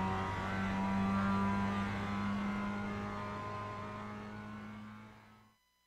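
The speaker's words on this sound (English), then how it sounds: "it's just a matter of accelerating up the hill and finishing your lap around Laguna Seca" A Mazda race car in iRacing climbs uphill at Laguna Seca, its engine droning in a steady high-revving tone that slowly fades and cuts off at the end.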